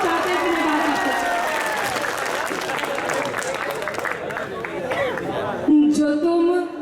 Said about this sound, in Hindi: मैं सबकी तालियां देखना चाहती हूँ।